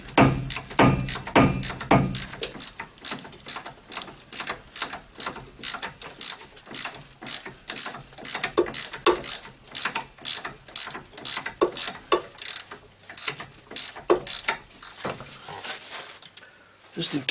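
An 18 mm ratcheting wrench works a ball joint on a 2002 Chevy 2500HD, giving rapid, steady metallic clicks in repeated bursts, close and loud, with brief pauses between strokes.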